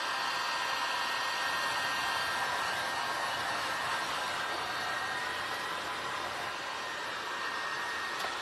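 Hair dryer blowing on freshly painted eyes on a toy soldier Christmas planter, a steady loud broadband whoosh that holds constant throughout, close to the mic, with no speech.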